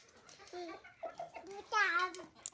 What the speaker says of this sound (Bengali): এই তো মুরগিগুলা অনেক সুন্দরভাবে খাওয়া দাওয়া করে